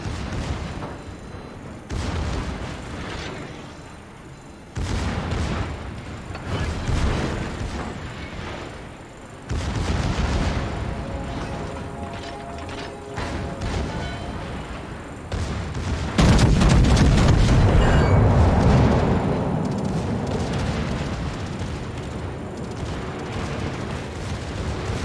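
Battleship being blown apart in the naval combat game World of Warships: a long barrage of heavy booms and rumbling blasts, with the loudest explosion swelling about two-thirds through and trailing into a roaring, crackling tail.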